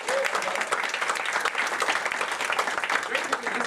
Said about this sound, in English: Can you give her a big round of applause?